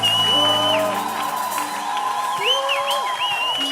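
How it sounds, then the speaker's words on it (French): A church congregation shouts, whoops and cheers for joy during a lively worship service. The cheering is loud and stays continuous with rising calls, and voices overlap. "Tu peux pousser les cris de joie."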